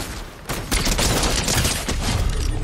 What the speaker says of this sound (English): They're shooting someone right by us.